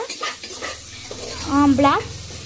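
Green chillies dropped into hot oil in a pan give a close, steady sizzle, with a short louder burst of frying and faint stirring clinks over about two seconds.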